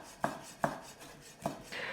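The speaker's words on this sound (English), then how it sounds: "I'm just going to very, very thinly slice them down." A knife thinly slices green and red chilies on a cutting board, three sharp distinct taps at an uneven rhythm, close and fairly quiet with no talking.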